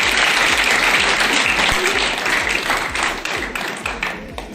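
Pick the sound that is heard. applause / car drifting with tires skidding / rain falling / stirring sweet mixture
applause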